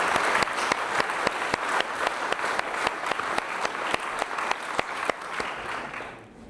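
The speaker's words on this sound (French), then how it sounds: "je vais vous demander un tonnerre d'applaudissements pour le sosie officiel de Ducobu" Thunderous applause at a Bordeaux mock-pleading show honours a lawyer: dense, steady clapping with sharp individual claps throughout, loud and continuous before tapering off at the end.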